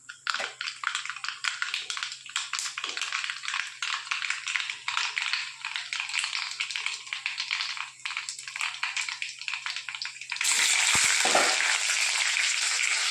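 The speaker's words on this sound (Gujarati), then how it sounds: "આપણે એને વઘાર દઈએ." Green chillies with slits cut in them hit hot oil already popping with mustard seeds, a dense continuous sizzle that crackles steadily and then surges louder near the end, close and with no talking.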